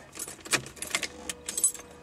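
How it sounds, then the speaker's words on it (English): A ring of keys for a Porsche 914 jingles and clinks in a few short bursts, close by and moderately loud, with no talking. "Let me get the right key in there."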